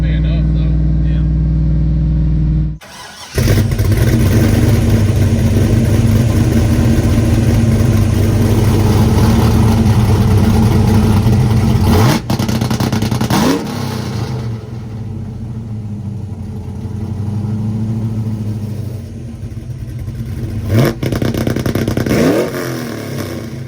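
Chevrolet S10 pickup with a nitrous-fed 5.3L V8 and two-step launch control, running loud and close with sustained rumbling revs, a brief cut near the start and a few sharp engine blips later.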